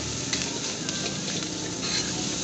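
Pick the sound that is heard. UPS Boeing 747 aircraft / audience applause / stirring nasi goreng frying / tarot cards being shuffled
stirring nasi goreng frying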